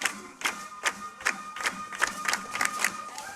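High school football crowd in Sheffield, Iowa, at night, a distant murmur punctuated by a steady series of sharp claps or thumps roughly every half second, faint and rhythmic.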